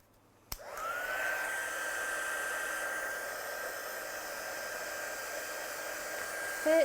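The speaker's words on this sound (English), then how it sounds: "And then we'll just dry this one off with our gun." A handheld hair dryer gun switches on with a click and blows a steady, loud whooshing whine to dry off a freshly made item, then is switched off at the end.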